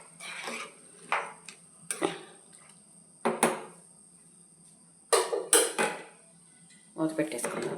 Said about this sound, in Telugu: మూత పెట్టేసుకుందాము.